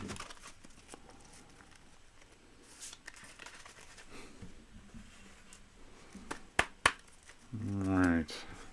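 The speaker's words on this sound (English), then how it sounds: "we'll get started here after another quick shuffle and a cut" Tarot cards are shuffled and cut, giving soft scattered riffles and taps, a few sharp clicks and a brief flutter of cards near the end, all fairly quiet.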